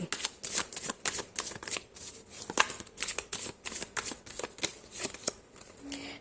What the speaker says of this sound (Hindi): हमजा डेक से भी हम कुछ कार्ड्स पिक करेंगे रीडिंग में